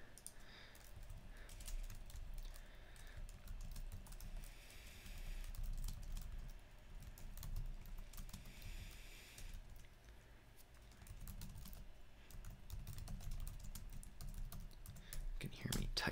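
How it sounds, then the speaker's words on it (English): Quiet, steady laptop keyboard typing with irregular clicking keystrokes, close by, continuing throughout against a low background hum. "You can hear me typing away here a little bit."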